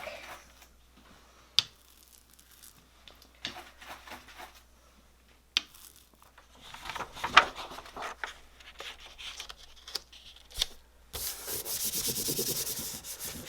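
Paper is rubbed firmly by hand over an inked acrylic monoprint plate, giving close dry scratchy strokes in short irregular bursts that build into a denser, continuous rubbing toward the end.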